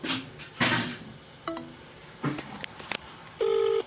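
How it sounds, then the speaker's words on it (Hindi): Telephone tones during a call that gets cut off: short beeps and dial-style tones spaced unevenly, ending in a steady tone, with faint background noise. "इतनी सी बात जैसे सवाल किया उतने में फोन काट दिया"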